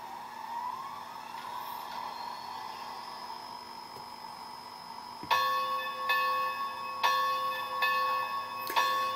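Bell on a model steam locomotive on a layout, preceded by a sustained whistle-like tone; from midway the bell rings in bright, evenly spaced clangs, close and clear with no talk.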